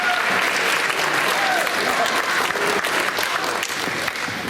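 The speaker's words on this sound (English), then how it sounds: "can we give all of our peer buddies a big round of applause one more time?" A school board meeting audience claps loudly and steadily for peer buddies, a dense, continuous round of applause with faint voices underneath.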